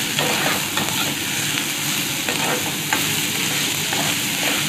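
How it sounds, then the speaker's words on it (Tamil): Capsicum and carrot fry in a pan with a dense, loud, continuous sizzle and crackle, punctuated by occasional faint stirring scrapes, close up and without speech. "கொடமிளகாய், அப்புறம் கேரட், இப்போ எல்லாத்தையும் போட்டு நல்லா ஃப்ரை பண்ணலாம்."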